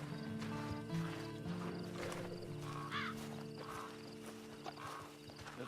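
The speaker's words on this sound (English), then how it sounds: "And you better get on this horse." A horse moving outdoors with soft, irregular hoof clip-clops, quiet and somewhat distant, over a steady low background hum.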